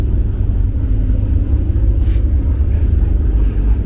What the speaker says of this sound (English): Cobra with a Vortex supercharger on it.